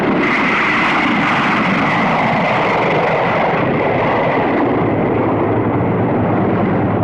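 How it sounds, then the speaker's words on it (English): A B-45 light bomber roars past in flight, its jet engines producing a loud, unbroken broadband rumble that fades slightly in the upper range toward the end, with no voices. "This light bomber makes a very stable bombing platform."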